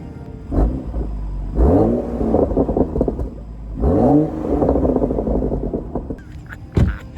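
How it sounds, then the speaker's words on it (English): Exhaust of a budget BMW 335i revving in bursts, two long rising pulls a few seconds apart with a low rumbling idle between them, loud and close, no talking. "Listen to this exhaust."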